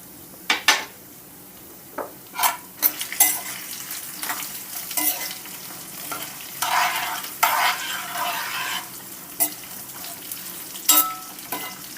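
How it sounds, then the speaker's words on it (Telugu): Salted dried chillies and cumin seeds fry in hot oil for a lemon rice tempering, sizzling steadily while a metal spoon scrapes and clatters against the pan in irregular bursts. "పోపు అంతా చక్కగా ఫ్రై అయిందండి."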